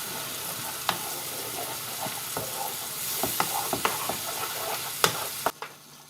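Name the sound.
chopped chilli sauce ingredients sizzling in a pan on medium heat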